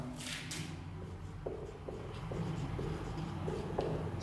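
A teacher writes a definition on a board during a Hindi physics class on static electricity, producing a series of short, evenly spaced scratches and taps at close range.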